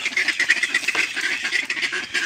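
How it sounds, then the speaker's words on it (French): Several ducks quack continuously and loudly up close, their nasal calls overlapping in a busy, steady chatter with no pauses. "il reste en tout 10 canards"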